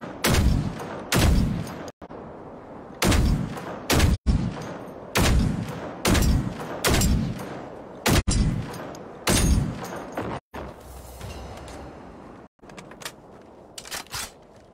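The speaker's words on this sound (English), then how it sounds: "Trying to shoot at me from all the way over there" Gunfire in the robot-fighting shooter Generation Zero: repeated loud, close shots fired in short rhythmic bursts over about fifteen seconds, with brief pauses between volleys and no talk.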